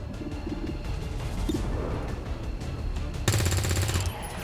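Gunfire in the video game XCOM 2 comes as bursts of rapid shots over a rumbling combat backdrop, with a dense, loud automatic volley near the end.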